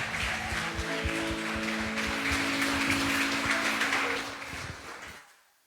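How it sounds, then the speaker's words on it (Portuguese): A church congregation claps in praise, a dense sustained wash of applause over held musical tones, steady and fairly loud before it stops abruptly into silence. "Vamos aplaudir o nosso Deus"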